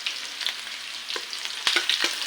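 Onions fry in a pan for pork teriyaki with a steady bright sizzle, and spoon scrapes and stirring clicks come through at irregular intervals, close and with no voices.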